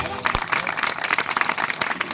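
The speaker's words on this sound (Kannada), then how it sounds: "ಚಪ್ಪಾಳೆ ತಡಬೇಕು ಜೋರ." A church congregation at a pastor's ministry gathering in Bidar claps loudly together, a dense, rapid patter of hands that stays steady throughout, with a voice heard over it.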